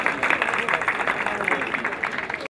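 Audience applause at a Côte d'Ivoire ceremony, a dense steady wash of clapping that carries evenly throughout and then cuts off abruptly at the end.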